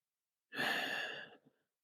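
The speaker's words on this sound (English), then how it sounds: "right here, right now, we take a nice deep breath" A single deep breath, a soft airy exhale lasting nearly a second, close and quiet, in a calm mindfulness setting, with a faint trailing breath after it.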